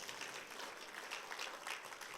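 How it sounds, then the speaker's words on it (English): Audience applause at an Atomy business presentation, a steady wash of clapping from a crowd at moderate level, holding evenly through the short stretch with no voices standing out. "You need to give a round of applause for this"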